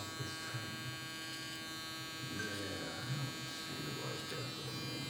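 A Stylecraft Instinct trimmer buzzes continuously while cutting hair, a steady close electric whine with faint shifts as the blades move across the head, a voice murmuring faintly underneath.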